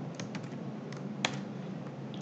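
Computer keyboard keys pressed to paste text, a few faint soft clicks with one sharper tap near the middle, over quiet room noise.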